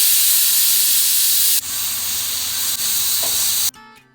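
A pressure cooker on the stove, cooking chopped carrots in water, gives off a loud continuous steam hiss that cuts and changes twice midway, then stops abruptly near the end.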